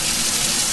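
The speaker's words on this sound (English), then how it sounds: "now I am going to add a little bit of water" A steady, loud rush of water being poured into a slow cooker for rice pudding, a brief continuous gush heard alone.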